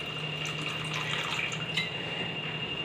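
Water pours steadily into a pot of pasta, a continuous close splashing stream with a faint humming tone underneath, running evenly without pause.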